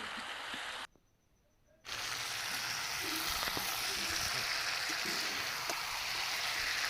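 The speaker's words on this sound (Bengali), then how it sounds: "এখন আমি হালকা হাতে কষিয়ে নেব একটু" Catla fish and cauliflower sautéing with spices in a pan give a steady, close sizzle with faint stirring scrapes. The sound drops out briefly near the start, then resumes.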